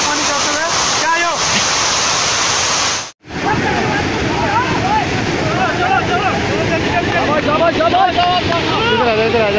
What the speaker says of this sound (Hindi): बहुत ही चिड़ू पानी आ रहा है जिसका मंजर आप नजर देख रहे हो, बहुत तेज पानी तेज आ रहा है।